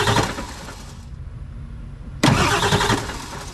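A 7.3 HPOP diesel engine is bumped over by the starter in short bursts, each a loud, close rhythmic cranking churn, with a brief quiet gap between the two bursts.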